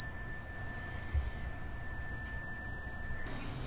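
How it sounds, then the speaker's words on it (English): A classroom chime rung to close a session, a single faint bright ding whose thin tone lingers and fades over a low background hiss. "We are going to close with the chime."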